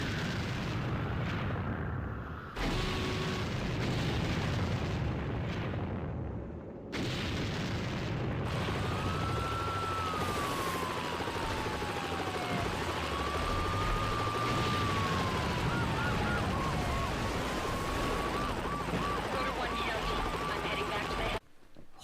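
Police sirens wailing in Need for Speed Hot Pursuit 2, with rising and falling tones sustained over a loud, dense game mix of engine roar and crashes, with a brief break partway through.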